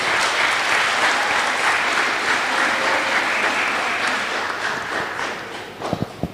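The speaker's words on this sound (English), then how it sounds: "I would like to invite all of you to give a round of applause to our speaker." An audience at an international forum gives a round of applause for a speaker, a dense, steady wash of many hands clapping that thins toward the end, leaving a few louder individual claps.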